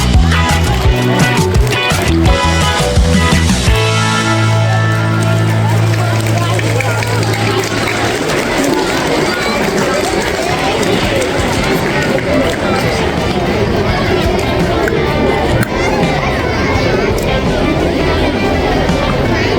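Applause for kindergarten LKG teachers at a school felicitation ceremony: sustained crowd clapping fills the hall, loud and continuous, with hubbub beneath and a low musical tone in the opening seconds.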